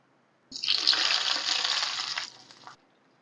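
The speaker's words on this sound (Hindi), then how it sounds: "भगार मैंने डाल दिया हलीम में" Hot fried-onion tempering (baghar) is poured into a pot of beef haleem, giving a loud, sharp sizzling hiss that bursts in suddenly, holds for about two seconds and then dies away quickly, with no talking.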